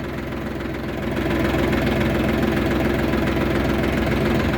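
A Yuto 244SX mini tractor's engine runs steadily at idle close by, a continuous low, pulsing diesel-like chug with a faint knocking rhythm and slight vibration, alone without voices.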